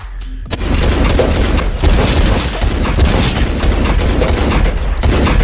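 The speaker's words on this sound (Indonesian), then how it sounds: "Max nekat melakukan Mexican standoff alias tembak-tembakan langsung face to face dengan Vincent" Dense, loud bursts of rapid gunfire and booming impacts from a shootout in the film Collateral (2004) fill the scene almost continuously, with no talking.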